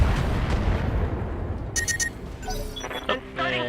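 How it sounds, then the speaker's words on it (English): Mech in the BattleTech video game unloading a full weapons salvo: a dense rumbling barrage with sharp bursts and electronic tones layered over it, loud and continuous. "Firing a full salvo."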